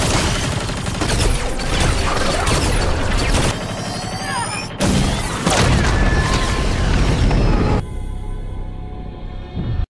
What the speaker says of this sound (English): she successfully blows up one of the war machines.